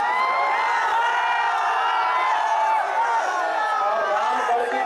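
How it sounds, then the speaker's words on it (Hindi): A large rally crowd at Ramgarh ground in Kaimur chants Lord Ram's name, a loud, sustained roar of massed voices with rising and falling tonal shouts that fills the space without pause. "कैमूर के रामगढ़ मैदान में श्री राम के नाम का उद्घोष हो रहा था"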